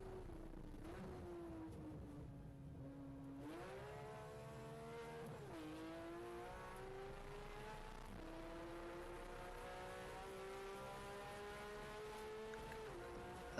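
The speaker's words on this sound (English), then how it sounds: "it sounds like you're already touching red line" A Porsche GT3 Cup race car engine revving high with rising and falling pitch, holding near redline at Utah Motorsports Campus, loud and continuous.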